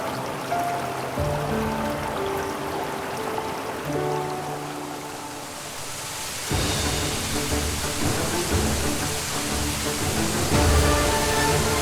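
Yongchu waterfall in Mureung Valley: a steady, full rush of falling water, loud and continuous like heavy rain, with soft music-like tones layered over it.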